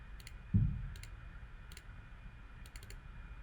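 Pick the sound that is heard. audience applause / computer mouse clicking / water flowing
computer mouse clicking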